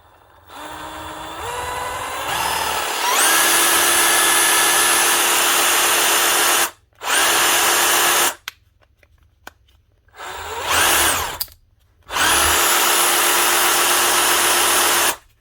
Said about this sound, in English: One Bosch cordless jigsaw with a new DC motor fitted.